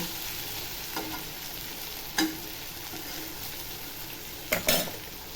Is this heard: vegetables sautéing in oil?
yes